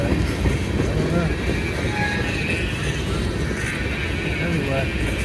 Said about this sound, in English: Anyway, it's a train.